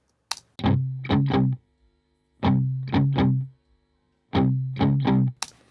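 A guitar track with light low-end cleanup and compression plays three phrases of three distorted, sustained chords each, separated by brief gaps, with a few clicks at the edges.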